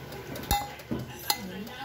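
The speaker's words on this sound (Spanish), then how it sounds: "revolvemos la ensalada." A salad with onion is stirred in a bowl, giving soft scraping and a few sharp clinks of utensil against the dish, spaced out and close by.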